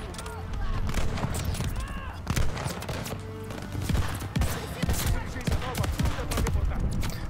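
Semi-automatic sniper rifle shots in the video game Call of Duty Vanguard, sharp repeated reports at an uneven pace amid dense game effects and music, with someone talking over much of the gunfire.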